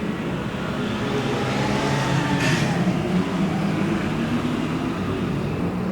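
Stock cars accelerate together at the start of a heat on a race track, a dense loud roar of engines building steadily, with a brief sharp burst near the middle.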